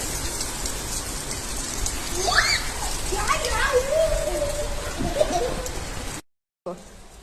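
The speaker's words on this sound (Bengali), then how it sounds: "বৃষ্টি পড়ছে" Steady rain pours down on a rooftop, a dense continuous hiss of drops with children's voices chattering and playing over it, then the sound cuts out briefly near the end.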